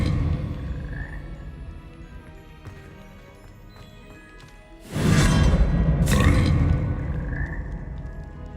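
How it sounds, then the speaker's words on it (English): Frogs croak in Hogwarts Legacy, a soft croak near the start and again near the end over a steady game ambience, with a loud whooshing surge in the middle. "I gotta go back to the frogs."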